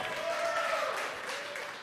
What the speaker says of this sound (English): And the cheering from the late night team here in Hawthorne.